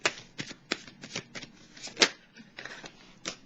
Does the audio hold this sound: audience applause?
no